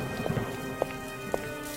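Heavy monsoon rain falls over a village with a dense, even hiss. A few sharper drops or splashes stand out near and clear, and no one speaks.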